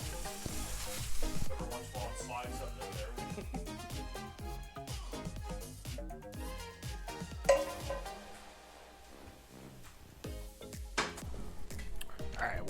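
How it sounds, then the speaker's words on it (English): Browned hamburger meat is drained and tossed into a crock pot, giving a spatter of sizzling, scraping and clattering kitchen sounds with a few sharp knocks, and a voice talking at times. "I'm just gonna drain the hamburger and then just kind of toss it all into the crock pot"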